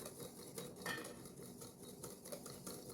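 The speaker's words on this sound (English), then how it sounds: "I continue whisking to make sure" Waffle cone batter being whisked in a bowl, a steady run of soft scraping and tapping strokes of whisk against the bowl, fairly quiet and close, with no talking.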